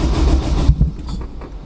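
A turbocharged Honda S2000 cranks on a start attempt, the starter churning loudly up close with a brief catch before the engine fails to fire and the cranking fades.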